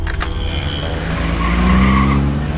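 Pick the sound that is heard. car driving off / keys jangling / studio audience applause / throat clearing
car driving off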